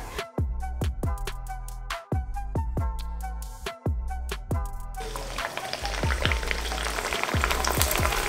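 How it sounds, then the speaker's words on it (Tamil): Rice papad (arisi appalam) is dropped into hot oil in a home kitchen and fries with a bubbling, crackling sizzle. Sharp pops come in quick succession at first, then a denser, steady frying hiss. "இப்போ எண்ணெய் சூடேறிடுச்சு, நம்ம அப்பளத்தை பொரிக்கலாம்."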